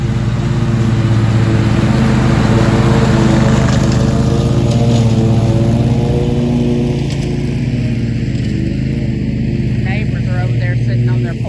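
A riding lawn mower hums steadily while cutting a home lawn, a loud close engine drone that holds an even pitch throughout.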